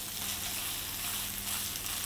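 Minced meat sizzles steadily in olive oil in a frying pan, a continuous close, bright crackle with no voices over it.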